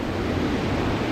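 Ocean waves break along a beach where someone fishes for sea bass from the shore, a continuous loud roar of surf mixed with wind and no voices.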